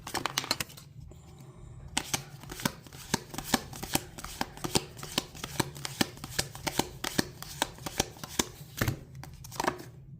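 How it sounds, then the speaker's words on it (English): A deck of oracle cards being counted out one at a time and pulled, producing a close, quiet run of crisp flicks and soft slaps in a fairly even rhythm with no talking. "I'm going to count 21 and I'm going to pull a card."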